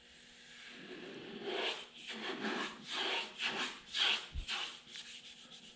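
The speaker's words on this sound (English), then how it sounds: "I'm gonna bring my hand down across the Jeep section. So listen here." A hand rubs back and forth across a primed Jeep metal panel in several slow, rasping strokes, close and fairly quiet, with no talking.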